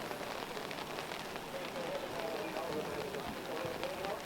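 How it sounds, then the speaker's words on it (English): Heavy rain pours steadily over an outdoor soccer stadium during a women's college match at Cochrane, a dense continuous hiss with a commentator talking over it throughout. "Rain continues to pour down here at Cochrane."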